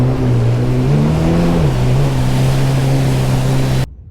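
A Yamaha WaveRunner personal watercraft heading toward Providence, Rhode Island runs loud and close, its engine droning steadily with a slight rise and dip in pitch over rushing water and wind, then cuts off abruptly.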